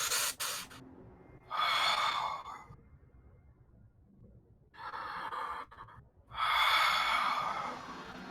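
A person imitates a creature breathing in a pit, producing breathy rasping inhales and exhales in separate bursts, close and fairly loud, with quiet pauses between them.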